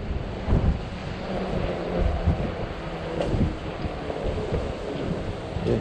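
Wind gusts buffet the microphone during a ride on a 20-inch 48V ecotric fat-tire e-bike on a chilly October day, a low rumbling rush that swells and fades in uneven puffs, fairly quiet overall.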